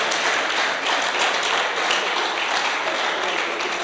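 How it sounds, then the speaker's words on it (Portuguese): A church congregation claps for Jesus, giving dense, continuous applause that fills the room at an even level throughout. "Palmas para Jesus, amados."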